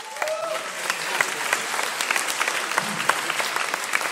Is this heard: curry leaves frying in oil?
no